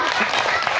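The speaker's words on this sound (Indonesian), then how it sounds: "Tepuk tangan buat Irdan." A burst of clapping and applause from a group of schoolchildren in an elementary school, dense and steady, with voices mixed in.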